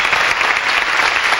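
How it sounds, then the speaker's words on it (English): A crowd applauds steadily at a small-town fall festival queen pageant, a dense wash of clapping filling the moment without pause. "Big round of applause for Alexa."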